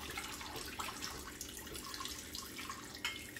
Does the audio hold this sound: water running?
yes